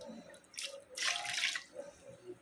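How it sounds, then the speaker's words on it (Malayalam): A cup of water is poured into a pot of rice, a short splashing gush that swells for about half a second, with quieter trickles before and after; quiet and close, no talking. "ഒരു കപ്പ് വെള്ളം കൂടിയാണ് ഞാൻ ഇതിലോട്ട് ഏടാക്കുന്നത്"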